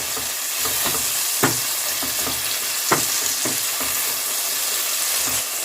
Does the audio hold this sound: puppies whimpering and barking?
no